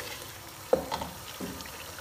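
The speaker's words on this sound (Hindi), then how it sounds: "मसालों के साथ अच्छी तरह से गोश्त की हम भुनाई करेंगे" Beef for nihari browning with spices in a pan makes a low, steady sizzle, broken by a couple of sharp scrapes from a spoon.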